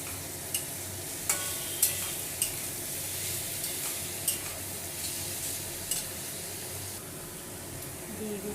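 Potatoes and figs for a Bengali fig curry frying in a pan, a continuous close sizzle with repeated spatula scrapes and knocks against the pan at an irregular rhythm.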